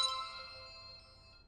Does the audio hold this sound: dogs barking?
no